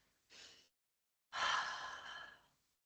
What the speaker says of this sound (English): Breathe in, breathe out. In, out.